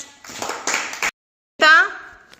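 Children in a Grade 1 and 2 classroom burst into about a second of quick, ragged group clapping, close by and fairly loud, which then stops and gives way to an adult voice speaking.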